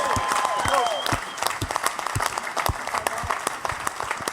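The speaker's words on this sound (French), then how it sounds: "On l'applaudit, Mike." An audience claps enthusiastically, a dense burst of applause throughout, with a few voices and cheers mixed in near the start.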